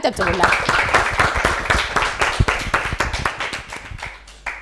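A studio audience on a children's quiz show claps for a girl contestant, a dense patter of hand claps that starts loud and gradually thins and fades, with a voice talking briefly at the start.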